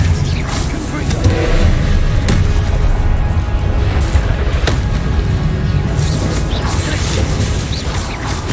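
Confringo fire spell blasting in Hogwarts Legacy combat: a loud, dense, continuous roar packed with booming crashes and sharp impacts, with a voice faintly under the din.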